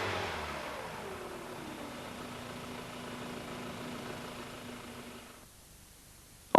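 Engine of a Toyota Celica running steadily near the microphone with a sustained low hum and mild revving, then cutting out abruptly into quiet near the end.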